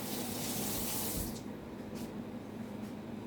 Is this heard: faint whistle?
no